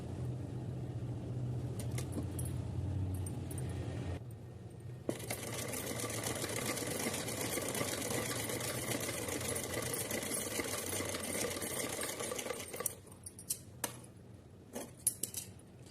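A sewing machine runs a long, steady stitch through doubled cotton cloth, a continuous close whir that stops near the end, followed by a few faint handling clicks.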